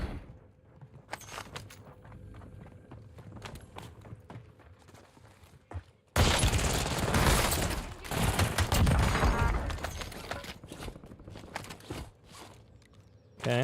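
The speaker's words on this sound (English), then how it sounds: "Okay, that shotgun's awful." Shotgun fire in the video game Warzone, starting as scattered distant cracks and footsteps, then a dense, loud burst of blasts and crackling gunfire for several seconds before dropping back to quieter game sounds.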